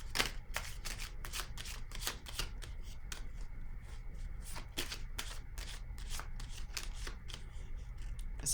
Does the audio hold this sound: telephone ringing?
no